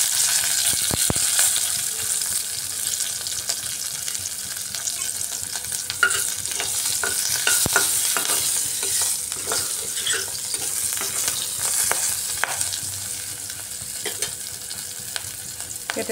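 Slit green chillies and fenugreek seeds fry in hot oil, a continuous close crackling sizzle with scattered pops and a few utensil clicks, steady throughout with no voices.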